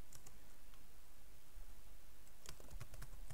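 Someone types a terminal command on a computer keyboard in Linux, with quick bursts of soft key clicks at the start and end separated by a quieter pause, close and without speech.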